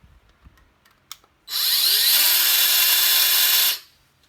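Parkside PHKSA 12 A1 12V cordless circular saw, a small battery-powered saw, whirring up to speed with a rising whine and then running steadily for about two seconds before cutting off. Faint clicks of handling come before it starts.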